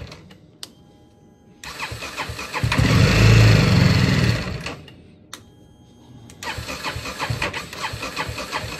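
BMW G310R motorcycle engine cranking and catching, revving up loudly for a couple of seconds, then stalling to quiet before cranking again with clicks and a rougher restart, close by.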